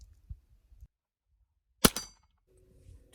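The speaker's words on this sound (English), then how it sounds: "So let's see what 22 will do to my manholes if I can hit it." .22 long rifle shot fired at a manhole cover: a single sharp crack with a brief metallic ring, standing alone amid near silence and faint background rustle.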